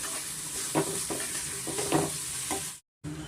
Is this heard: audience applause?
no